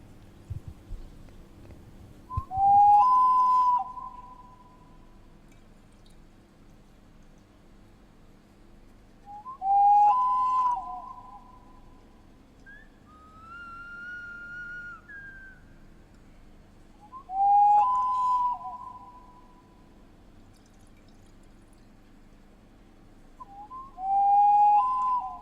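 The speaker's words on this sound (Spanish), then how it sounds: "Botella silbadora. Botella de agua." A whistling water bottle, a traditional ceramic vessel, sounding four clear, evenly spaced warbling whistles, each lasting about two seconds, with a fainter higher tone between two of them over a low steady hum.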